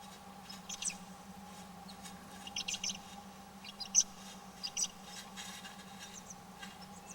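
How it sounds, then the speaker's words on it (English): A newly hatching owlet gives its first calls from inside or just out of the shell, a few short, high peeping chirps spread across the stretch, faint and close against a steady low hum in the nest box. "That peeping sound is an owlet's first call"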